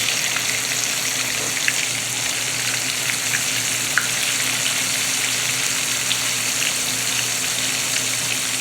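Catfish pieces deep frying in hot oil, a dense, even crackling sizzle that holds steady throughout with a few faint pops, close by and with no voices.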